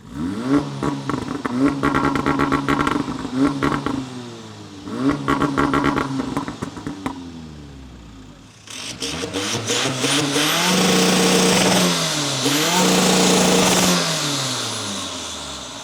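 Two engines rev in turn: a smoky nitrous Mk4 Golf TDI diesel with repeated throaty blips, then a forged Mk7 Golf R petrol with a louder, smoother rise and fall in pitch, close by.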